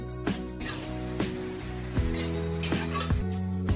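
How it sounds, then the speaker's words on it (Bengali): Soft sizzling of sliced onions frying for mutton kosha under repeated scraping and clinking of a utensil against a pan, close up, with low tonal hum throughout and no talk. "পেঁয়াজটা ভালো করে ভেজে নিতে হবে যতক্ষণ না লাল লাল হয়ে আসছে"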